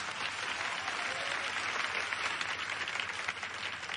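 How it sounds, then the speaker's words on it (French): A crowd applauds for a team being thanked at the end of an event, steady dense clapping that holds loud and even throughout with no voices over it. "S'il vous plaît, on les applaudit bien fort."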